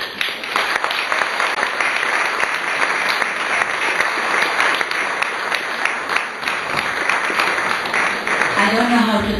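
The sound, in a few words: audience applause after a lecture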